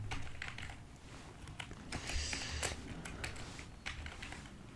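Rapid, steady keystrokes on a computer keyboard while someone types HTML code, close and continuous with a few louder clacks, no voices.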